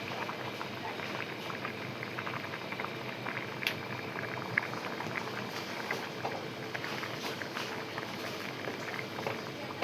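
Sprouted moth bean curry simmers in a pot with a soft, continuous bubbling burble, faint and close, under a woman's quiet speech.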